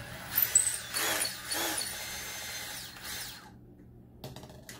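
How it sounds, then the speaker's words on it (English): Power driver removing screws from the main body of a Rockston Sideloader pachinko ball lifter kit, with two or three short whirring bursts close by, then a pause and a faint click. "Take these screws out."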